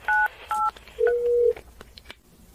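Telephone keypad tones dialing 911: two short dual-tone beeps, then a longer single tone, crisp and close, followed by faint quiet handling sounds.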